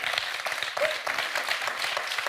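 An audience claps and applauds steadily throughout after a competition final, a dense patter of many hands at moderate distance.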